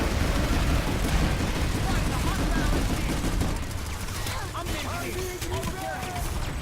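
Enemy gunfire in the sci-fi shooter Planetside 2 rattles in dense, continuous bursts from above amid vehicle noise, loud at first and then thinner, with sharp transient cracks scattered over the rumble.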